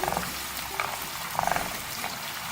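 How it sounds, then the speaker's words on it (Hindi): Chopped onions fry in a pan for a dal fry, with a steady soft sizzle and a few brief bursts of crackle close by. "सबसे पहले हम प्याज को थोड़ा सा फ्राई करेंगे।"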